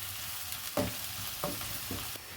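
Chopped medium onion fries lightly in hot oil with a soft steady sizzle, broken by a few brief scraping stirs from a spoon in the pan, close and fairly quiet with no talking.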